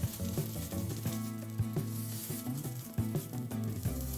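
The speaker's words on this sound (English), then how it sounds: "Add a little oil to a pan and cook the pancakes over medium-low heat" Beef-stuffed pancakes of soft no-knead dough fry in a lightly oiled pan over medium-low heat, giving a faint, steady sizzle with small crackles and a few brief taps.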